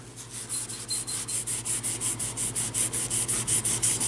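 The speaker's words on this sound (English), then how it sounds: "we're going to start to rub off that toner" A lint-free rag soaked in acetone rubs toner off a surface on a Hallicrafters 5R41 or S-20R radio part. The rag makes steady, rhythmic back-and-forth scrubbing strokes, roughly four per second, close and clear over a low constant hum.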